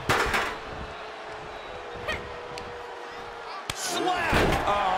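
A slap landing during a Hell in a Cell wrestling match, a sharp loud smack amid crowd noise and commentary, with a second hard impact a few seconds later.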